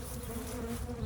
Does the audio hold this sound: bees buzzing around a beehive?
yes